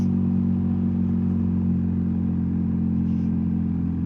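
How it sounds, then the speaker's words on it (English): Steady engine drone of a BMW touring motorcycle riding two-up on a mountain road between Tremosine and Belluno, with an oncoming car passing by briefly under the continuous low rumble and wind. "Another car coming towards us."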